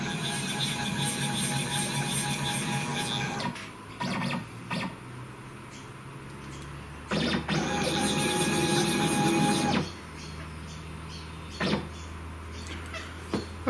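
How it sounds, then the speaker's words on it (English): A desktop CNC router drives across to its work position, its stepper motors giving a whining, buzzing drone in several separate moves, with pauses, clicks and a low hum between them. "now I'm going to drive the rotor over to the work"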